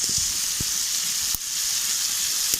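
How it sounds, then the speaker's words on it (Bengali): Crab frying with spices in a pan, a steady close sizzle with a few soft stirring knocks and no talking. "দিয়ে মশলা দিয়ে কাঁকড়া বসিয়ে দেবো"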